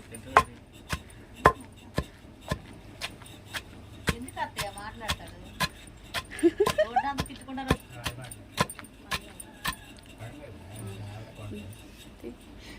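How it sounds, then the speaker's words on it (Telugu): Garlic cloves for brinjal chutney are pounded and crushed in a steady rhythm of sharp thuds, about one per second and close by, while people talk intermittently over the beating. "ఎల్లుల్లిపాయలు అయితే తంపుకుంటున్నామండి."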